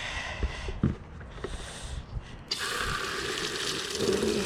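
Tap water gushes into a bucket for mixing rose care solution, a steady loud rush that starts partway through after some quieter handling noises.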